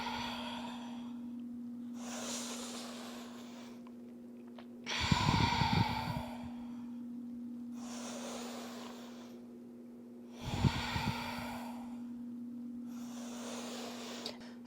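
Slow, deliberate breaths during a classical mat Pilates workout, soft airy inhales and exhales in a steady rhythm with two heavier, louder exhales, set against a constant low electrical hum.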